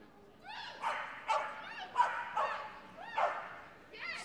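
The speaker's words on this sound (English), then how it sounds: "So this is a 3-year-old working Cocker Spaniel." A 3-year-old working Cocker Spaniel barks and yips repeatedly in quick, excited bursts at a Crufts agility competition, sharp and fairly close, with crowd murmur underneath.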